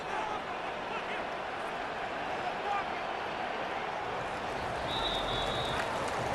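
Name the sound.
stadium crowd cheering in Madden 26 video game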